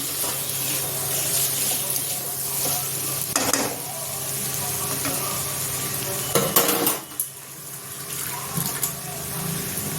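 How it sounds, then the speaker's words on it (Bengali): A bowl is rinsed and water added to a pot of potato and pointed gourd curry, with running water and a few clinks and knocks of dishware in a kitchen. "বাটিতে ধুয়ে একটু জল দিচ্ছি।"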